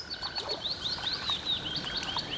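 Frogs croak beside a lake, a steady chorus of bright chirping calls repeating at close range, layered and continuous with no talking.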